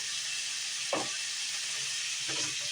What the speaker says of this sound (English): We're going to add the steak in now. It's kind of lean, so I think I'm going to add just a little bit of olive oil to it also